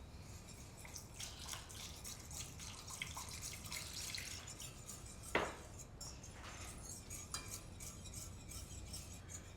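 A touch of water drips into a pan of warm chocolate sauce made with boiling cream, one brief, close splash standing out from a steady, hissy kitchen background.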